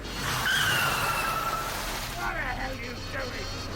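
A car skids through traffic in a radio play, with a sustained loud tire squeal sweeping downward over about two seconds, then a rougher scraping screech, set against steady traffic rumble and faint voices.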